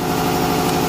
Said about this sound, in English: this fan just keeps spinning and spinning and cooling it down